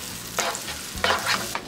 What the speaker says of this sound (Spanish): Ahora le voy a poner el tomate, un tomate y un chile verde pequeño. Vamos a sofreír estos ingredientes.